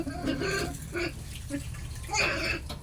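Weak tap water runs in a thin, faint trickle with an uneven splashing texture, heard close and quiet, while a voice speaks softly in the background.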